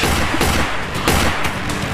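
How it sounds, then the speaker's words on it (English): A rapid burst of loud gunshots, several sharp blasts in quick succession, close and echoing. "waving a gun around and began firing"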